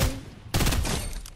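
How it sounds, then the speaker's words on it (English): Rapid gunfire in a Fortnite match, loud and close, a dense burst of shots that briefly cuts out and then resumes as sustained firing. "Gun."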